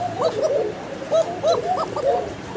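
Blue bar kokka pigeons cooing close by, a series of soft, rolling coos repeating in irregular bursts over a low background hiss.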